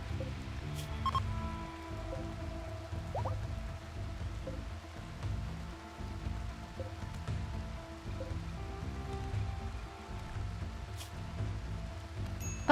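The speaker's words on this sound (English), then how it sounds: "How long will this rain last?" Rain falling in the video game Rimworld, a soft, steady patter and wash of drops at low volume with quiet background tones underneath.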